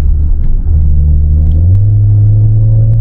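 An Audi A6 C7 3.0T is driven at high RPM. The engine holds a loud, steady drone whose pitch climbs smoothly as it revs higher, with no talk over it.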